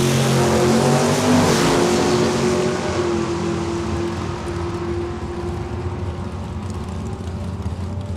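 Drag race cars launch off the line at Saskatchewan International Raceway in a loud, roaring engine blast that gradually fades as they pull away, with no talk.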